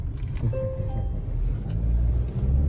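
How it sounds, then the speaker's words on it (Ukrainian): Steady low engine rumble and road noise from inside a moving 2020 Volvo V60, a constant drone with a brief faint whine. "Ничего так машинка їде."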